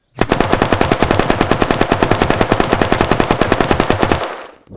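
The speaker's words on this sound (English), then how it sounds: "let's test out how it sounds like and looks like when you shoot from a first person." A loud burst of rapid pistol gunfire in the video game Unturned, fired first-person, dozens of shots back to back in a steady stream, then stopping abruptly.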